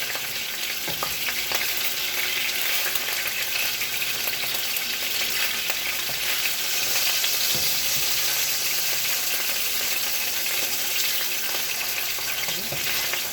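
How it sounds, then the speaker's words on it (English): Codfish frying in hot oil for a tom yam seafood pasta, a steady, dense sizzle and crackle heard close up. It runs unbroken and even throughout, with no voices. "As we are cooking the codfish"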